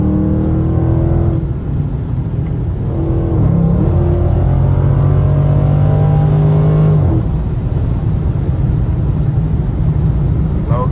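Dodge Challenger Scat Pack accelerating in traffic, loud engine drone with rising and falling tonal whine as it revs through gears, heard from inside the car without talk.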